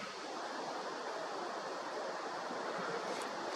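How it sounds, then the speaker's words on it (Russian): Steady wind buffets the microphone, a constant broad rushing roar with no breaks, moderately quiet overall. "Ой, как сильно ветрит."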